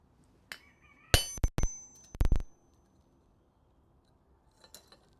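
A chisel struck with a hammer to cut a line on hot metal in a smithy: a few sharp ringing metallic clinks in two short clusters, close and fairly quiet, then a faint tap near the end.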